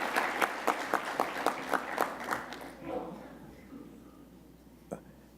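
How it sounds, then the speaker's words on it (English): Healthcare conference audience gives a short round of applause: about nine distinct, evenly spaced claps, then a low murmur and one last isolated clap. "Give them a round of applause, please."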